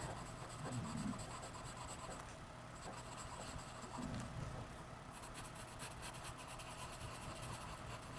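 Charcoal pencil scratches and rubs over paper while a baby pig's snout is drawn, a close, quiet, continuous rasp of short strokes with brief pauses and no talking.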